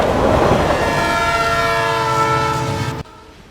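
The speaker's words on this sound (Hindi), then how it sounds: "लहरों की आवाज बंद हो गई और ट्रेन की आवाज सुनाई पड़ी।" A train rolling past near a beach, its long, loud steady horn blaring over rumbling wheels, then cutting off abruptly near the end.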